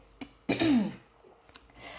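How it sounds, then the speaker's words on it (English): A single harsh throat clearing, brief and close, followed by a couple of small clicks and quiet breathing. "excuse me if you hear me clearing my throat"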